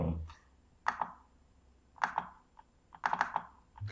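Typing on the keyboard of an Asus Q301L laptop under repair for a broken DC power jack, in short bursts of crisp clicking keystrokes, close and fairly quiet, with pauses between clusters.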